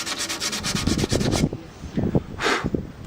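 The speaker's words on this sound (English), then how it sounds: "keep rubbing until you get down to the bamboo" Steady rubbing and sanding strokes on split bamboo, working into the crack and grain to strip stain and varnish layers on a violin project; close, rhythmic scraping that repeats for several seconds with no talk.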